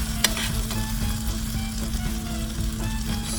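Snapper fries in basting oil with rosemary and thyme, a dense, close, steady sizzle with small pops and crackles running the whole way without a break.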